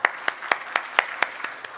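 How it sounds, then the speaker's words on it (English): An audience at the ISVIR'26 event claps together in a steady, evenly spaced beat, each sharp clap distinct, moderately loud, with no talk over it. "Let's hear a round of applause."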